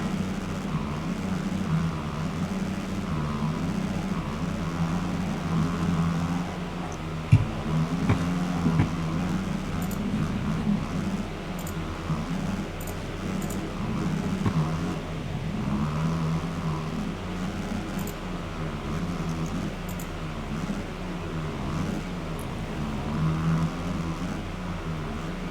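Race cars lapping a track in free practice for the top 22 heat-race qualifiers, a steady distant engine drone that stays constant throughout, with one brief sharp spike near the middle.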